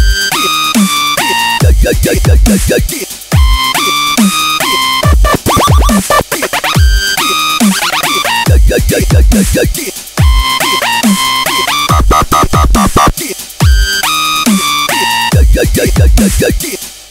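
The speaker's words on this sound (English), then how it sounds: "it's just a very small vocal effect that you're going to add" A processed, chopped vocal effect pops in on the off beats between kick and snare, repeating rhythmically within a loud, driving dubstep beat.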